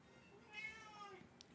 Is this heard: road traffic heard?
no